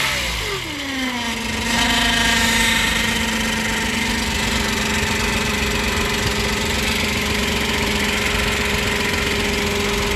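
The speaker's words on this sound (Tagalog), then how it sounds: "The bearing is gone on the alternator." A running 2007 Toyota Yaris engine with a failing alternator bearing gives a steady, loud mechanical drone and whine, holding even throughout after a brief dip in pitch at the start, with no talking.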